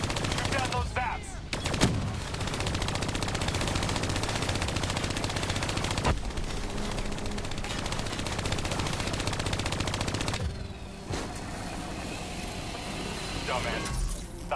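Heavy automatic gunfire and explosions from the shooter video game Call of Duty Black Ops 3, loud and continuous with rapid bursts, mixed with game sounds and a voice talking over the action.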